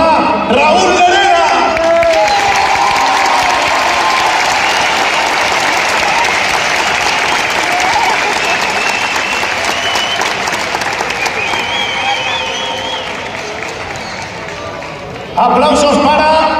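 Sustained audience applause with some whoops and cheers for motorcycle rider Raúl Llerena at a motorcycle event in Alcalá de Henares, a steady, dense crowd clapping that runs about fifteen seconds with voices at the start and end.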